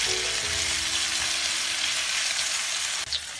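Paneer pieces frying in a pan for saag paneer, a steady dense sizzle running throughout, loud and close, with a brief soft knock near the end.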